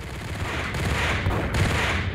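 Dense automatic gunfire in the Max Payne video game, a loud close barrage of overlapping shots that roars continuously with heavier bursts near the end.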